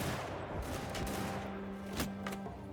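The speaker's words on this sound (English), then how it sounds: "the beauty of just our men firing is great" Musket volleys crackle in the Shokuho mod of the game Mount & Blade II: Bannerlord, with a dense rolling spatter of shots and a couple of sharper reports standing out near the end, all at mid distance.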